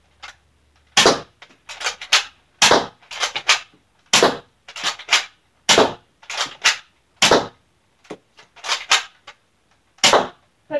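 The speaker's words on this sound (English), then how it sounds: "Let's just test out the gun, see how it fires, see how it works." A Nerf Elite 2.0 Commander blaster fires darts in a string of sharp, loud clicking pops, singly and in quick pairs, with short gaps between shots.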